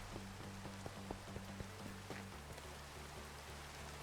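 Steady rain falls in the Minecraft video game, a constant hiss of pattering drops near the listener with a few brief soft clicks, heard alone without talk.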